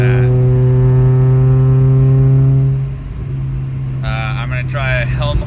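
Loud, steady harmonic engine and exhaust drone from a Pontiac Vibe GT that eases off after about three seconds into a lower rumble, with a voice speaking over the engine near the end.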